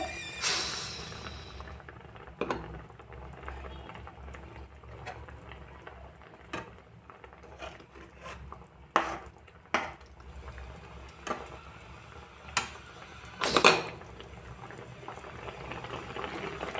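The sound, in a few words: rohu fish curry simmering, stirred with coriander leaves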